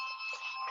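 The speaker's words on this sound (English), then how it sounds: "I'm gonna have to yield because my bell is ringing." A short timer bell rings during a city council meeting, a faint, bright, sustained metallic tone lasting under a second with no speech over it.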